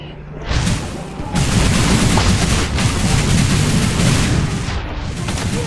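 Video game gunfire of the Tabs Jojo gang unit creator kind: loud, dense bursts of shots and booms follow a short quieter start and run continuously throughout.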